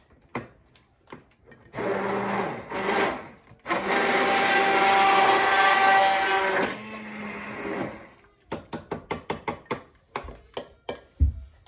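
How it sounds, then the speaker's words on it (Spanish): A kitchen blender whirs loudly while pureeing pumpkin soup, running in two long bursts, then a series of short clattering knocks follows as it stops. "Déjenme darle otra licuadita por último."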